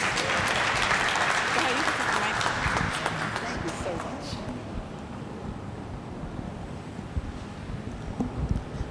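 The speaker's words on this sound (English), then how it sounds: "One more round of applause for all our" A round of applause for honorees at a Guyana flag raising ceremony, broad crowd clapping strongest at first and gradually thinning into a softer, scattered patter with outdoor noise underneath.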